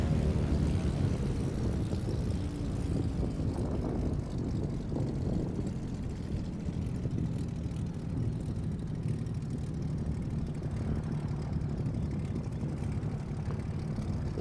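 Piper Arrow IV single-engine propeller plane in Microsoft Flight Simulator 2020, its steady engine drone and propeller hum running continuously and fairly loud at an airport in far northern Minnesota, no talking.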